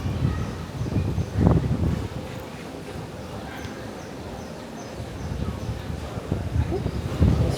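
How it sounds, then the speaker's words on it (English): Night wind gusts buffet the microphone on the open deck of the Oasis of the Seas cruise ship, with low rumbling swells that rise and fade. A faint voice comes through between the gusts. "Ooh, it's a little windy out here."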